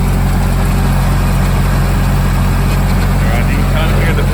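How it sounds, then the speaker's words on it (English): A Nissan S13 engine idles loudly and steadily up close while its power steering pump makes a faint noise under the constant low rumble. "you can kind of hear the power steering pump making some noise"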